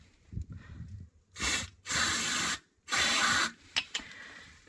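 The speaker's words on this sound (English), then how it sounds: "we'll give it a quick spray first with some brake cleaner" Several sharp hissing bursts of aerosol brake cleaner spray on a Massey Ferguson 3075 tractor PTO, two long and one short, separated by brief pauses, close up with faint clicks between.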